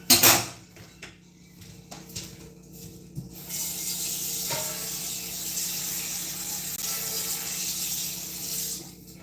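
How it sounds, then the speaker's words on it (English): Tap water running into a frying pan at a kitchen sink, with a few clinks of pans at first, then a steady hiss of flowing water, close and moderately quiet. "I put water in the frying pan when I'm done"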